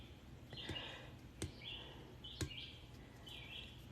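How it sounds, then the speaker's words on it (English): Recorded nature-sounds birdsong plays quietly from a Spotify playlist in an indoor room: repeated high chirps and short trills in a loose rhythm, punctuated by a few sharp clicks against a low background hum. "Oh, this bird's loud."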